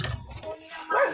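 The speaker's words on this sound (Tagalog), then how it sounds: "may aso pala dito, may aso" A dog gives a short bark or yip at a junk-collecting stop, then a second call, fairly close and brief.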